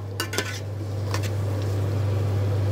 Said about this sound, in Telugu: మూత పెట్టి మగ్గనిచ్చేసుకుందాం.